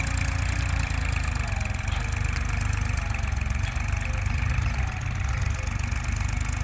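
A tractor engine idles nearby with a loud, steady low throb and even mechanical rattle, continuing without change for several seconds.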